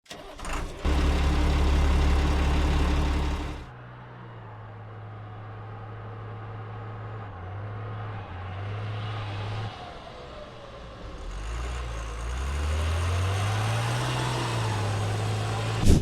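A US Army Stryker armored vehicle engine turns over, then settles into a low, steady idle that rises and falls a few times as the revs change, close and moderately loud.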